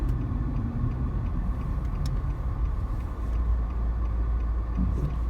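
A fuel-efficient car is heard from inside as it drives along. The steady, low engine and road rumble runs continuously throughout, with no talk over it.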